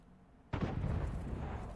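A sudden deep artillery blast from a World of Tanks battle bursts in after quiet and rolls on as a heavy rumbling tail, loud and close.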